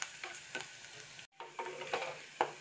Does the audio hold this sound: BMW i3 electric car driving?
no